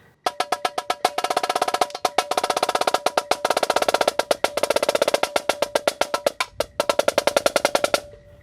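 Snare drum from a 2018 Vandegrift drumline break, playing a fast run of crisp, evenly spaced strokes in triplet figures with a few short pauses, close and loud, ending on a sustained ring.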